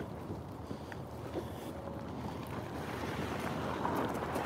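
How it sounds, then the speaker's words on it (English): Cold wind gusts outdoors, a low, steady rushing buffet with microphone rumble that swells slightly toward the end, no voices present. "the wind is cold"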